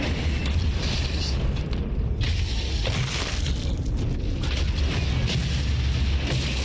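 Explosions in Doom 2016 on nightmare difficulty: dense, crushing booms and debris roar fill the whole stretch, loud and continuous with heavy low rumble and sharp bursts layered on top.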